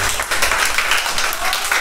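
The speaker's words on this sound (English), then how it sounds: "Please join our meeting together to clap for all of our parents." An audience claps steadily for parents at a school end-of-year party in Sokoto, a dense, continuous wash of applause with some voices mixed in.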